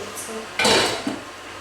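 A spoon scrapes and clanks against a pan while minced meat is stirred, a couple of short metallic knocks and a brief scraping burst, close and fairly loud.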